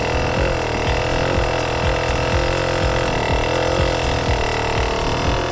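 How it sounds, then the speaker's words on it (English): An enduro motorcycle engine runs steadily and loudly nearby while the rider slips the clutch to hold the bike in place, with a continuous buzzing drone and small rhythmic fluctuations in pitch. "Listen to the engine and hear how controlled Tim is with his clutch slipping"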